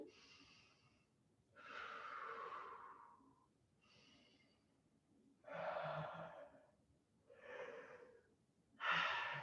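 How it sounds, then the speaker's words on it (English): Several long, breathy yawns follow one after another, each a drawn-out airy exhale with a slight voiced groan, close and fairly quiet, with pauses between them. "Excuse my yawns."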